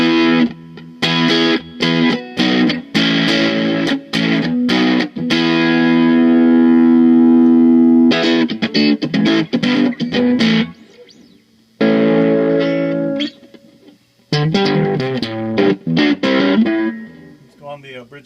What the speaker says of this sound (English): let's just crank this thing up and see if we can get at low volumes an overdriven tone